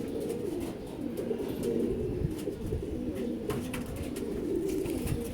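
Pigeons in a loft cooing in a low, continuous murmur, several birds overlapping at close range with steady, moderate loudness throughout and no talk.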